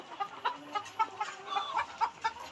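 Layer hens at a poultry farm cluck in short, repeated bursts. The calls are fairly close but soft, spaced about every quarter second over a quiet background.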